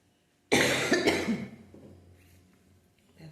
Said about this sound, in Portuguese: essa tosse está inconveniente, mas estou gripada, estou resfriada.